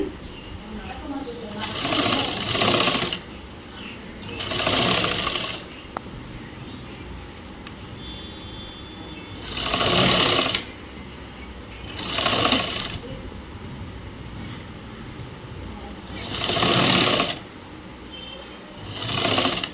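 Bursts of close sewing machine stitching on a cut blouse come every few seconds, each a second or two long, with someone talking steadily between and over them.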